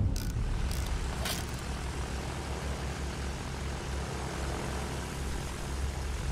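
A bomber's aircraft engines drone in Battlefield 1, a steady, fairly loud low rumble with a few brief higher bursts near the start and no voices.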